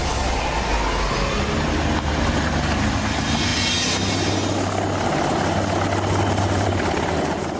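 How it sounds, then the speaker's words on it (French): A helicopter flies in steadily to evacuate people from a dangerous jungle area. The rotor roar is loud, broad and continuous, with a deep, steady thrum throughout and no voices. "L'hélico les évacue enfin de ce secteur de tous les dangers."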